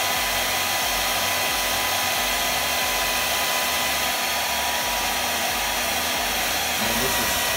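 A small Nova Mini travel hair dryer running on its first speed gives a loud, steady blowing whir with a constant motor hum, uninterrupted and alone.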